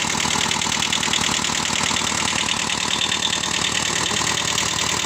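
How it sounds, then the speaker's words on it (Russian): A Kubota B6000 four-wheel-drive tractor's water-cooled diesel engine idles steadily up close, with a rapid, even chugging knock that holds unchanged throughout, no voices. "Двигатель запускается и работает очень хорошо."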